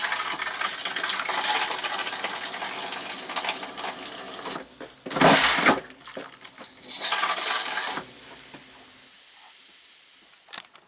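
An RV toilet flushes during winterizing with pink antifreeze, a loud rushing gush of water with a sharp burst midway, then a second surge before settling into a quieter trickle and hiss.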